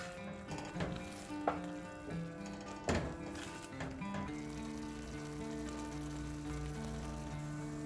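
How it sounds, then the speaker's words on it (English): Homemade organic tomato pizza sauce sizzling in a pan while being stirred, with a few distinct knocks and taps of the utensil against the pan early on, then a steady low bubbling sizzle. "Make sure you have to keep stirring."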